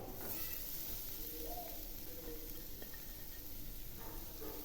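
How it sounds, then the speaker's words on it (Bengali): Carrots frying with semolina in a pan, a steady soft sizzle and hiss with faint stirring scrapes throughout, close and continuous, no talking. "এই গাজরগুলো খুব ভালো করে ভেজে নেব।"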